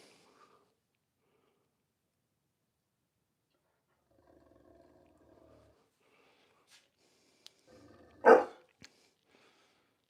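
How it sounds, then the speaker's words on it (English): A grown dog, not a puppy, lets out a single loud, sharp bark near the end, after long near-silence broken only by faint low rustling. "He's not a puppy, but he's barking because he wants"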